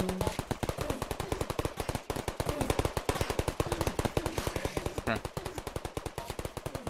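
Turrets in modded Minecraft FTB fire rapid, evenly spaced shots in a long continuous burst, a loud mechanical machine-gun rattle with brief faint voices underneath.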